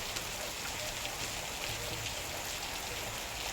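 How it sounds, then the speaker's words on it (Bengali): Steady rain falls outside on a June day in a continuous, even wash of drops and patter, with no breaks and no voices. "বৃষ্টি নেমে গেল জুন মাসের।"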